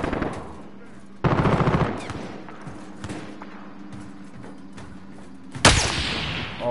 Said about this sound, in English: You're getting shot.